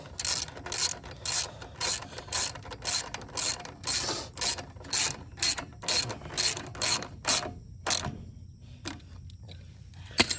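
Ratchet wrench tightening bolts on a Manco Fox Conquest go kart, a steady run of rapid clicking bursts in repeated strokes, close and clear, with no talking.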